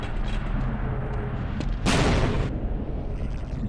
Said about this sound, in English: Another grenade on this vent.